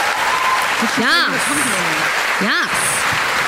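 Loud, sustained applause from a crowd fills the clip, with a person speaking briefly over the clapping.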